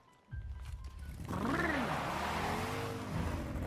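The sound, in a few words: motorcycle engine revving in the film Advent Children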